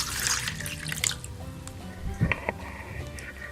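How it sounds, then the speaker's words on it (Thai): Water is poured into a mixing bowl holding salt, vegetable oil and food colouring for a rice-flour dough, making close, splashy trickling in uneven bursts with a few drips. "เทน้ำลงไปค่ะ"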